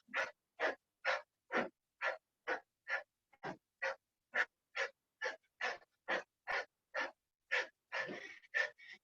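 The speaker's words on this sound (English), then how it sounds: "Hear that boxer breathing? You should be exhaling on each punch." Boxer-style sharp exhalations during a cardio kickboxing workout, about twenty quick, forceful breath bursts in a steady punching rhythm, close and clear, with no talking.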